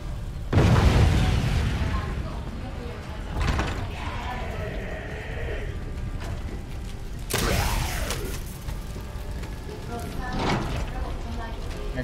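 Bomb detonations in the Resident Evil 2 video game: a loud booming blast near the start, then a second burst around the middle and a fainter one late, amid mechanical clicks and game effects.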